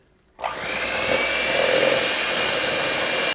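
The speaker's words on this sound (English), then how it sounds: "grab your hand mixer and on medium or medium low, give it a mix" An electric hand mixer runs at medium speed in cake batter, a steady close whirring motor that starts abruptly and holds evenly for about three seconds before cutting off.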